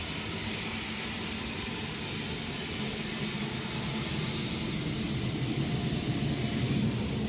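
At an airport before a flight to Osh, a passenger jet's engines give a loud, steady, close roar with a high whine on top, unbroken throughout and with no voices over it.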